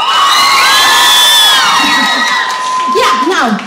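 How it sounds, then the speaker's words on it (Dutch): A live audience cheers loudly for the winner of a modelling contest, with shrill whoops and children's shouts in a sustained roar that swells and shifts throughout. "ik wil jullie vragen om een heel hard applaus te geven voor Maxime."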